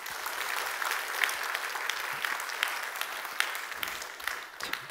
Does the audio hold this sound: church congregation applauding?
yes